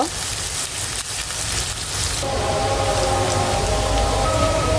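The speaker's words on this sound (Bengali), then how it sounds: "আমি এখানে পেঁয়াজ কুচি দিয়ে দিচ্ছি" Chopped onions sizzle and crackle as they fry in oil for mustard hilsa, a steady broadband hiss that fills the clip, with a faint tonal hum entering midway.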